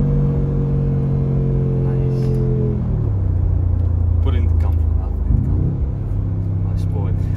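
A Mercedes G-Wagon engine rumbles deep and loud, then its pitch drops and climbs again through a shift as the heavy SUV pulls away, with voices talking over it.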